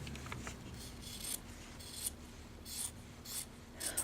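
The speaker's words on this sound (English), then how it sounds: "But you can also use a scissor." Scissors snip through fabric for paper piecing, making a series of quiet, crisp cuts at an uneven pace close by, with no talking.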